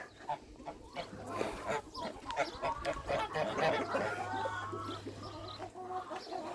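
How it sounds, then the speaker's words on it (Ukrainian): Farmyard poultry calls from a goose standing over its eggs among other fowl, with repeated clucking and honking close by over a steady low hum. "Вон гуска стоїть над яйцями,"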